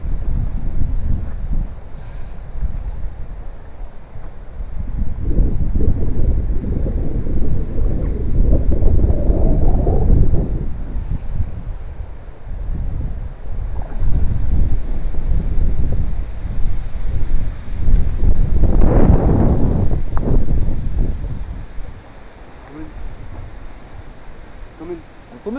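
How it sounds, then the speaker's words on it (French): Strong gusty wind buffets the microphone in deep, rumbling surges that swell and fade, with voices faintly audible beneath it. "il y a pas mal de vent"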